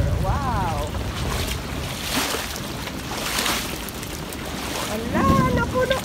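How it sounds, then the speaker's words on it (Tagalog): Rainwater floods across a rooftop in a steady, loud rush of water mixed with wind noise, and voices come through briefly at the start and near the end. "flooding on the roof. So much water."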